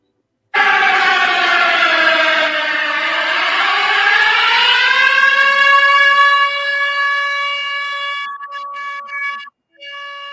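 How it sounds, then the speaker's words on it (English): A siren sound effect wails loud and alone, its pitch sweeping low and climbing to a sustained high tone, then breaking into choppy bursts before a sudden cutoff. "Sound the siren."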